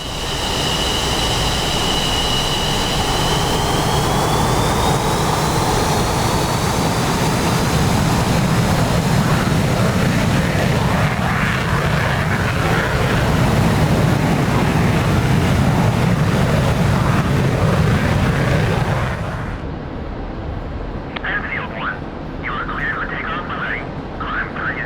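A MiG-29 jet taxiing in DCS, with a loud, steady engine roar and rising whine that drops off sharply near the end, leaving quieter cockpit clicks.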